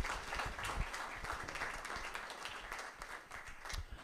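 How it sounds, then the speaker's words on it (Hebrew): Audience applause at a live true-stories evening in Florentin, a dense steady crowd clapping that holds for the whole stretch and eases slightly near the end. "חבר'ה, כפיים לארגון, לערב,"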